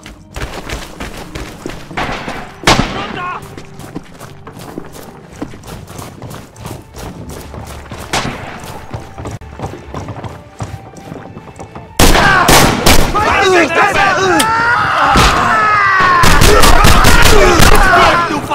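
Bursts of World War II infantry gunfire from the video game Red Orchestra 2 crack out in irregular volleys over a busy game soundscape, growing louder and denser toward the end with rapid shots layered together.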